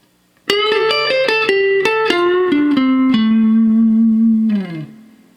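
A bluesy electric guitar lick, with bent, sustained notes, a quick run of plucked notes settling into a long held tone that slides down at the end.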